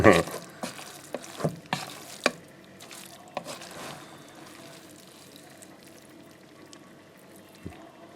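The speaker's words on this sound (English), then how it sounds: "You see how egg is frying" Egg fries with spaghetti in a pan, a soft sizzle under scattered scrapes and clinks of a utensil stirring, sharper knocks early on and quieter frying later.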